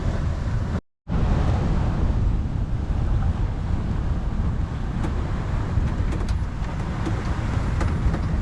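Wind and waves on a sailboat at sea off Egypt, with a steady roar of wind buffeting the microphone and constant rushing water, loud and unbroken except for one brief dropout early on.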